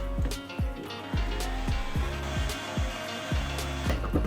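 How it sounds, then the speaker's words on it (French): A food processor whirs in loud pulsing bursts as it blends fresh coriander, the motor rising and dropping in a regular rhythm. "je commence par mixer la coriandre fraîche dans mon robot"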